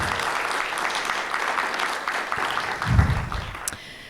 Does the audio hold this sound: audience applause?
yes